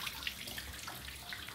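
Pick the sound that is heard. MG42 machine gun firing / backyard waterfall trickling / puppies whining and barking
backyard waterfall trickling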